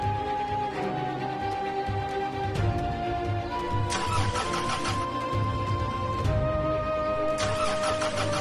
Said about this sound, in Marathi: पण मग गाडी का चालू होत नाहीये?